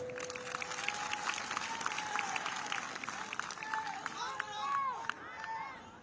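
A crowd claps at a political election-campaign rally in Rajnagar, Tripura, a dense spread of hand claps running under an amplified speaker's voice throughout.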